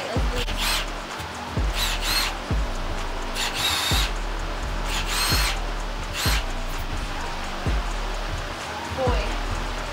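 Power tool, likely an impact wrench, backing out cylinder head bolts on a Subaru EJ257 engine during teardown: repeated loud rattling bursts with short pauses between, close up, over a steady low hum.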